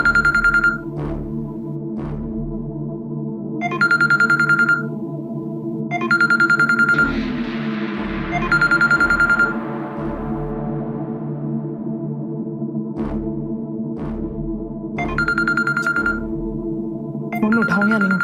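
A phone rings repeatedly, its electronic ringtone sounding in regular bursts with brief pauses between, over a low droning background.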